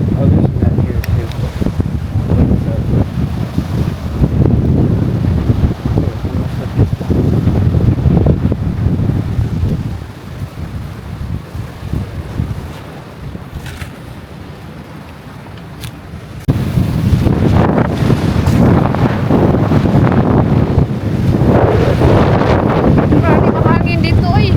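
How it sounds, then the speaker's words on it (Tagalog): Strong wind at a beach resort in Palawan buffets the microphone in loud, continuous low rumbling gusts, easing briefly midway before surging back hard; a voice is faintly present. "Grabe mahangin dito eh. Napakahangin."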